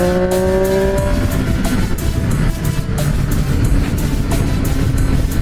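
A 2018 Triumph Street Triple RS 765 motorcycle accelerates in fourth gear, its engine pitch climbing and then holding under loud, steady wind rush, recorded up close from the rider.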